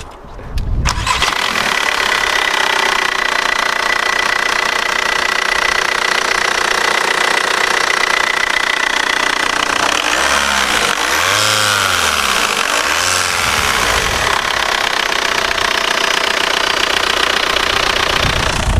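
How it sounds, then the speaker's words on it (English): A high-mileage Volkswagen MK4 TDI diesel wagon cranks briefly, then catches and settles into a loud, steady diesel idle with a clattering knock, a few engine blips midway, and no talking. "let's start her up and see this thing roll some coal out the hood"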